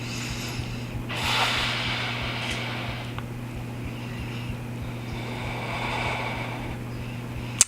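Slow audible breaths during a forearm plank in a yoga session, soft inhales and exhales close to the microphone over a steady low background hum.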